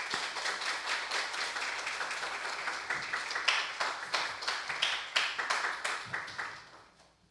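A church congregation claps to welcome Pastor Kim Tae-yang, a modest group of hands producing distinct, uneven claps that swell, then taper off and stop near the end.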